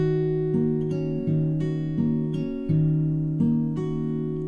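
The first three beats of a Travis-picked acoustic guitar pattern from a song, thumb bass notes alternating under ringing sustained strings, played alone at moderate volume.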